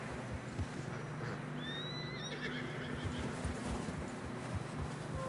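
A horse whinnies in Red Dead Redemption 2 on a snowy trail, a rising neigh in the middle of a low, continuous rumble of hooves and movement. No one speaks.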